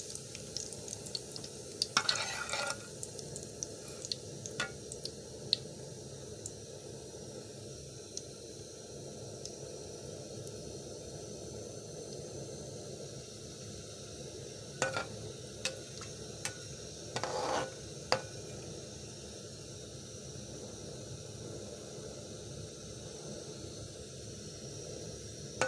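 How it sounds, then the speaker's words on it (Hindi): Carom seeds (ajwain) frying in hot ghee for aata ka halwa: a steady, faint sizzle and hiss, with a few brief stirring scrapes near the start and middle, no talking. "घी गरम हो गया है, अब हम इसमें अजवाइन डाल देते हैं। अजवाइन को हमने हल्का सा भून लेना है।"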